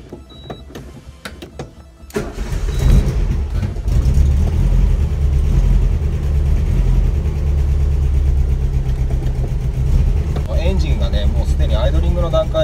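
An air-cooled 1303S Volkswagen Beetle, after a transmission mount replacement, starts up and settles into a loud, steady low engine drone that continues through the drive, with someone talking over it.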